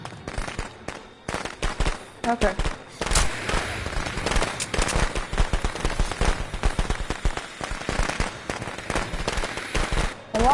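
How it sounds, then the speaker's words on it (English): Fireworks crackle and pop in rapid, dense bursts throughout a survival video game match, loud and continuous, with a brief word of speech. "I have fireworks."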